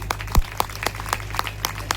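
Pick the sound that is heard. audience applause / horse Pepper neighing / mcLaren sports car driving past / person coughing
audience applause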